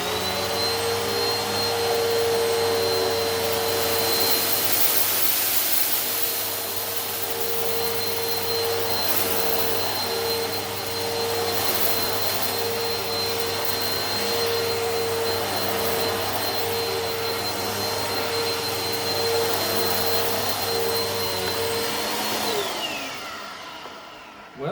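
Bissell Powerforce Helix upright vacuum running on carpet at height position 4, a loud steady motor whine with a constant high tone throughout, shutting off and winding down near the end, no speech.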